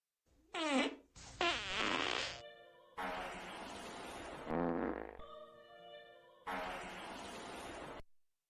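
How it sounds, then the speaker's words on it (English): A series of loud comedic farts, several wet and sputtering bursts separated by short pauses, heard close and alone with no talk. "Somebody farted during some sort of a performance"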